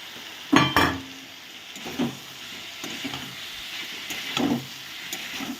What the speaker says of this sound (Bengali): এবার আমি এই মশলার মধ্যে ভেজে রাখা আলু আর ফুলকপিটা দিয়ে দেবো।